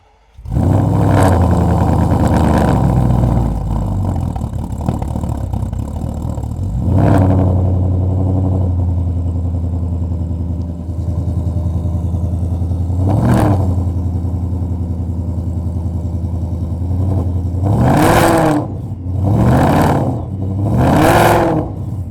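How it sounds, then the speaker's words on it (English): A deep V8 engine of an S650 Ford Mustang GT idles with a steady rumble, punctuated by several sharp revs, including a quick cluster of throttle blips near the end. "Got a real nice deep exhaust sound on this thing."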